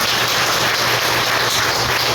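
A church congregation applauds to welcome a visiting elder and his wife, a dense, steady wash of many hands clapping at once, loud and continuous without pause.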